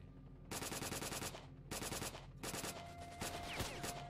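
Automatic weapon fire in S.T.A.L.K.E.R. during a military base assault: three loud, sustained bursts of rapid shots separated by short pauses, close and dominant with no talk over them.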